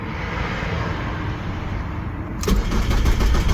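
A Jaguar X-Type car engine cranks and fires up promptly after a camshaft position sensor change, then settles into a steady, loud idle close by.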